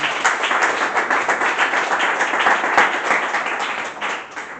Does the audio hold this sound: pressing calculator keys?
no